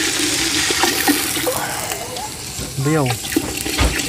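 Water poured into a pot of cooking vegetables to make a broth, a steady splashing pour beneath someone talking nearby in an outdoor kitchen.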